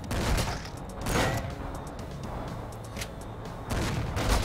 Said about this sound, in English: I'm not even aiming, I'm just shooting.